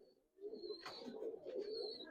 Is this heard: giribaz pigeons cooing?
yes